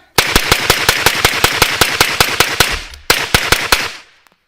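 A PSR22 firearm empties its magazine in rapid fire, roughly twenty sharp, loud shots in a quick even rhythm, with a short pause before a final fast burst.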